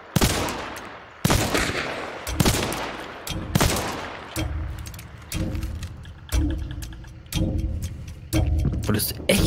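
Sharp gunshots in Hunt: Showdown fire repeatedly, some in quick bursts and some spaced apart, loud and close, with faint voices in between.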